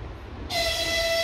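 A train horn sounds at a station where the Trans-Siberian Railway begins in Vladivostok, a single steady tonal blast starting abruptly and holding, heard from a distance over low background rumble.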